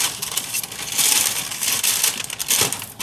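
Flour tortilla dough pressed lightly in wax paper with a tortilla press, giving a brief crinkling, crushing rustle of paper and dough, close and fairly steady for a few seconds.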